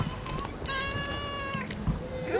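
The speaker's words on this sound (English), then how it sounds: "Zach, there's a real cat." A warm-climate cat gives a single clear, close meow with a drawn-out tonal middle, while people talk quietly nearby.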